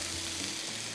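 Rice being stirred into a coconut prawn curry in a pan, a steady soft sizzle and scraping stir close by, ending with a brief sharper clink.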